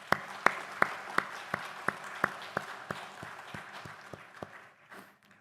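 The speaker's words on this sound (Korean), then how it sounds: "우리 하나님께 영광의 박수 올려드리겠습니다." A Korean church congregation claps in unison during a Sunday service, about fifteen sharp, evenly spaced beats at roughly three per second that grow softer and fade out near the end.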